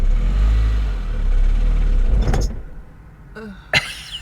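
A 2001 Saab 9-3 Turbo with a blown engine rumbles loudly at close range for a couple of seconds, then cuts out into near silence broken by a few sharp clicks and a thump.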